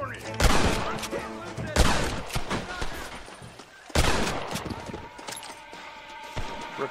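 Rapid bursts of gunfire from the Western video game Red Dead Redemption, several loud sharp volleys crackling in quick succession with brief gaps between them.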